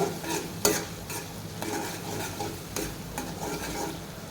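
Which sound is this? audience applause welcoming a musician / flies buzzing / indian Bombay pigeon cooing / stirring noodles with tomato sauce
stirring noodles with tomato sauce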